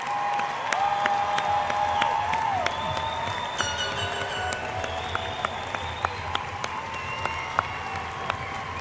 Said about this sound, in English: So what about one more round of applause for everybody?